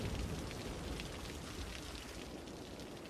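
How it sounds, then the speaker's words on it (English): Steady rain in the city-building game Cities: Skylines, a dense continuous hiss with a low rumble beneath, even in level throughout and with no talking. "It is raining now. And lightning."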